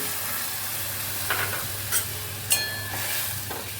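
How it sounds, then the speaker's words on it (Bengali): A whole dry red chilli and panch phoron spices sizzle in oil in a pan. A constant frying hiss runs underneath, broken by a few sharp metallic scrapes and clinks of a spoon against the pan. "ওই তেলের মধ্যেই দেখো, আমি একটা গোটা শুকনো লঙ্কা আর অল্প একটুখানি পাঁচ ফোড়ন দিয়ে দেবো"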